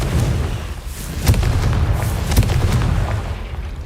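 A Confringo fire spell goes off in Hogwarts Legacy, a loud sustained rumbling boom with several punchy blasts layered over it, filling the whole stretch without pause.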